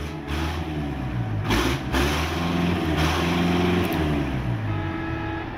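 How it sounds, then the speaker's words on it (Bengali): A truck engine rumbles and revs steadily at close range, with a couple of brief hissing bursts over the low drone. "ট্রাকের ইঞ্জিন স্টার্ট দিচ্ছে।"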